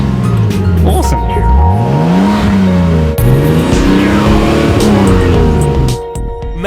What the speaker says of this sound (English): So, now I give it a rev.